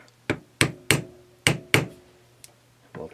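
A light hammer taps a blunt screwdriver while reassembling the ignition switch of a 1964 Honda S90: about six sharp, close metallic knocks at an uneven pace, then a softer final tap.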